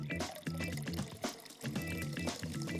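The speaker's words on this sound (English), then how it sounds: "Slowly, we pour in the Prosecco." Prosecco is poured slowly into a bowl of punch. The quiet, close liquid pour has a couple of short pauses and no talk over it.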